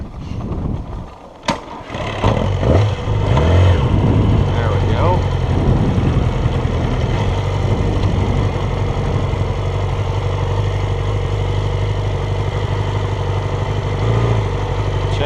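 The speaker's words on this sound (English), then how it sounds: "Let's see if I can successfully push start this friggin' beast." A 2006 Yamaha R6 sportbike with a low charging voltage fault catches on a push start after a short scuffle, then settles into a loud, steady idle that carries on close by for over ten seconds.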